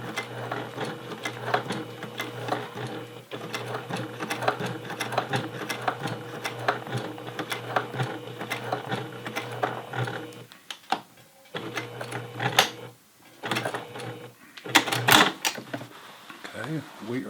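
A sewing machine stitches a flat felled back crotch seam on jeans with a quarter-inch-plus fold, running in a steady rapid whir with brief pauses and short bursts near the end.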